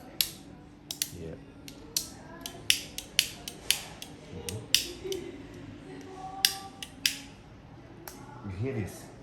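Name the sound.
Swiss Army Knife mechanism clicking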